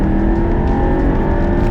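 A 2021 BMW 6 Series GT with a four-cylinder petrol engine accelerates hard, a loud, steady engine drone with road noise that holds throughout without pause.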